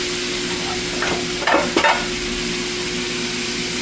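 Ground beef seasoned with pepper and garlic powder sizzles steadily in a pan, with a few brief scraping stirs in the middle and no talking.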